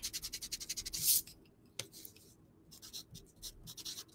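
Pen scratching on paper while jotting trade notes, a quick rhythmic burst of strokes followed by scattered lighter scrapes and taps, close and quiet with no voices.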